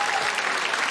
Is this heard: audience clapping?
yes